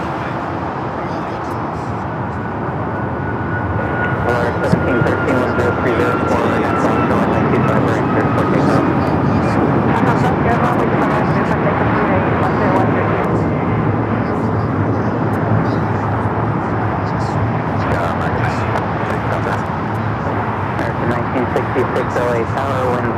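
A heavy jet airliner arriving at LAX on the south side, a continuous loud engine roar that holds steady throughout, with brief voices in the background.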